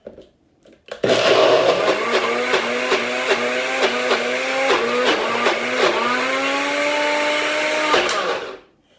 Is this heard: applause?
no